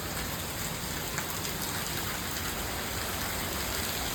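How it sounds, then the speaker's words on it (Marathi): Steady, dense hiss of heavy night-time monsoon rain in Hingoli, Maharashtra, pouring down without a break, loud and close, with no voices. "सारखा मुसळधार पाऊस चालू आहे"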